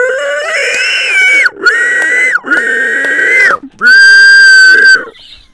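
A man imitates a pig with loud, close nasal squeals and oinks, four long strained calls in a row, the last a high sustained squeal, with no other talk.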